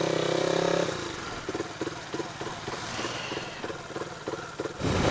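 A Yamaha 125Z two-stroke motorcycle with an aftermarket exhaust revs up once, then settles into a choppy, pulsing idle with rapid popping beats, close and fairly loud, before a second rev at the end.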